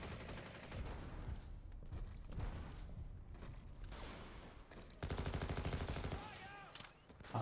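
Rapid SMG bursts in a first-person shooter video game, dense repeated gunfire at close range throughout, growing louder and more continuous toward the end, with faint game effects mixed in.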